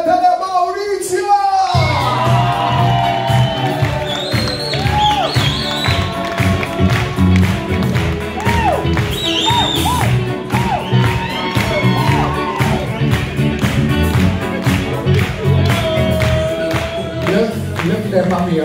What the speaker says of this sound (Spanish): Fuerte aplauso, directo para Italia, Maurizio!